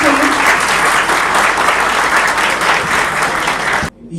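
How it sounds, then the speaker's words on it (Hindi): Loud, dense applause from a large crowd at a results celebration, a continuous roar of clapping that cuts off abruptly near the end. "देखिए तालियों का शोर थोड़ा ज्यादा होना चाहिए।"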